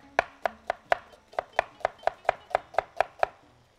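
An onion is chopped on a board in a kitchen, about thirteen evenly spaced, loud knife strikes in a steady rhythm, close and clear with no talking.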